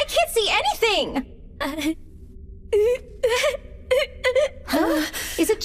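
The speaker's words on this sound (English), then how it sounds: "does it sound like someone is crying?" Someone crying nearby: wailing sobs and whimpers in uneven bursts with short gaps between them, loud and close.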